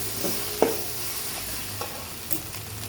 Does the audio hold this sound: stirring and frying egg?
yes